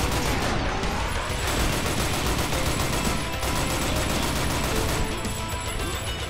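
Rapid gunfire in the shooter game Painkiller: Reload, dense bursts of shots and impacts rattling almost without pause, loud and close throughout.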